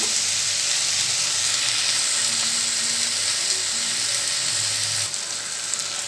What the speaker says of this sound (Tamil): இப்போ இதெல்லாம் கலந்து கொடுத்துட்டு கொஞ்சம் நேரம் இது வேகட்டும்.